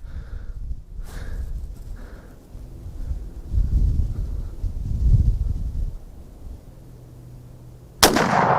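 A Winchester 30-30 lever-action rifle fires outdoors, with one sharp, loud report at the end after several seconds of low wind rumble and faint handling noise.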